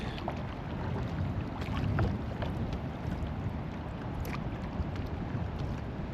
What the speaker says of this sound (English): So now I am fighting the wind.